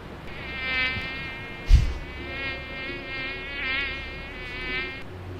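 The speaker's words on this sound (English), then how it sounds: "You don't find the sound of an insect buzzing your ear just really freaky?" A close, whiny insect buzz circles in a video game, swelling and fading several times over low ambient hum, with one brief thump partway through.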